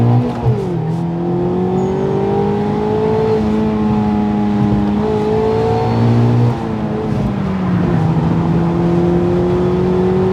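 A Mazda MX-5 engine accelerates through several gears, its pitch rising and dropping at each shift, heard from inside over steady road noise.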